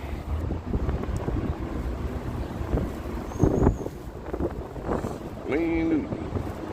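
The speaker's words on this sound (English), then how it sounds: "It's just like the occasional gust" Wind gusts buffet a clip-on lav mic outdoors on a Las Vegas street at night, a low rumbling roar that swells and fades, with voices and street noise underneath.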